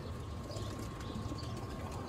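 Pigeons in a breeding setup cooing softly over a steady background hum, a few low murmuring coos close by in a brief stretch.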